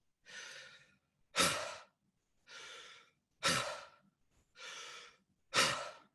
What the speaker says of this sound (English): I'm going to ask you to breathe in softly and then exhale very, very hard.